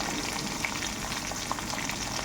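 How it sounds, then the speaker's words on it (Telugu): Onions, green chillies and curry leaves fry in hot oil, a steady close crackling sizzle with small pops running the whole time, no voices over it. "ఫ్రై అవుతున్నాయి కదా ఫ్రెండ్స్."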